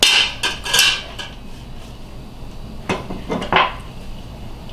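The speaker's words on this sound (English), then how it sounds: "I have to use my spoon to get all that mayonnaise out." A metal spoon scrapes and knocks against a mayonnaise jar and bowl, giving several close, bright clinks and scrapes in two clusters with quiet pauses between, and no talking.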